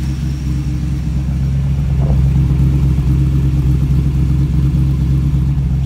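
A 1937 Chevrolet Coupe's engine idles up close, a loud, steady low rumble with an even mechanical throb that holds unchanged throughout.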